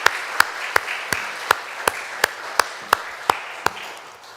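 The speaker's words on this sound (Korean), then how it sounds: "우리 박수로 격려하면 참 좋겠습니다" A church congregation claps for its choir in a steady, evenly spaced rhythm, about a dozen sharp claps in a row that fade slightly near the end.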